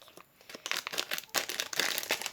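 A plastic toy package being torn open by hand, with continuous close crinkling and crackling of wrapper material over a couple of seconds.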